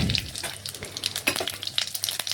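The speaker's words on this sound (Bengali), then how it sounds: "তেল ভালোভাবে গরম হয়ে গেলে ফোড়নে দিয়ে দিচ্ছি আমি 5 ফোড়ন" Whole cumin seeds and dried chillies crackle and sizzle in hot oil, a bright, spitting fry with scattered pops, close and fairly loud with nobody speaking.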